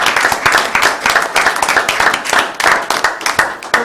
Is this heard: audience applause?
yes